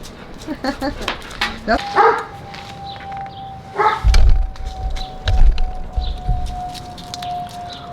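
A dog barks in a quick series of sharp yaps, with people talking nearby and a plane droning steadily overhead.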